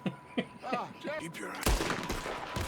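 Video game gunfire in Red Dead Redemption 2: a sudden loud volley of shots bursts in partway through after scattered game sounds and speech, then rattles on with further reports.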